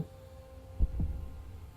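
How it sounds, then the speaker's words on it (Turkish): In the video game Hollow Knight: Silksong, two soft, low heartbeat thumps sound in quick succession over a quiet, humming background, with no voices. "Şu an gördüğünüz gibi kalp atış seslerini duyabiliyoruz"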